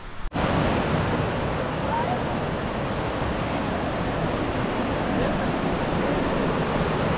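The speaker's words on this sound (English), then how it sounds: "Oh yeah, coming right off the mountain. All this water coming down there." Water rushes steadily down off a mountain after tropical rain on a hiking trail in St. Vincent, a constant loud wash of noise with no breaks, heard close by.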